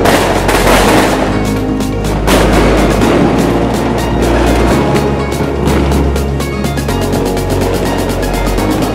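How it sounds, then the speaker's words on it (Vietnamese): Tet New Year fireworks go off outside in a rapid, loud barrage of booming bursts and crackling pops, dense and continuous with music underneath. "đợi pháo bông bắn bụp bụp xì xì ì ì đùng"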